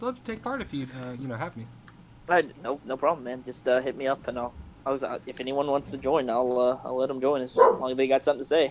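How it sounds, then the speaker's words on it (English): A puppy barks and yips in short bursts beneath someone talking continuously up close, the barking partly masked by his voice. "I do apologize for the fucking barking."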